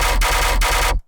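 Processed tearout-style gun bass passed through a convolver chain. It is a loud, dense, distorted electronic blast with a rapid machine-gun-like stutter, lasting about one second before cutting off abruptly.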